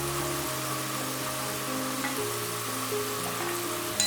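Bitter gourd slices frying in hot oil in a pan, giving a steady, dense sizzle and crackle that runs unbroken from start to finish.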